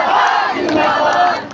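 Dense rally crowd in Bihar chanting a political slogan in unison, loud and sustained throughout, with massed voices filling the space and no single speaker standing out.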